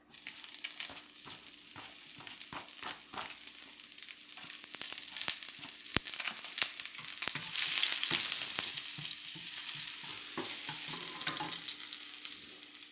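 Garlic and ginger frying in a pan for a fish stir fry with chili bean sauce, a steady bright sizzle under intermittent clicks and scrapes of stirring, growing louder and denser about halfway through.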